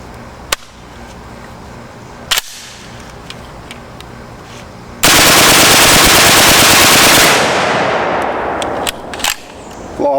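HK-91 semi-automatic rifle fired from a steel G3 magazine: a few sharp single shots, then a long, very loud burst of rapid reports that fades into echoing outdoor tail, followed by quieter clanks.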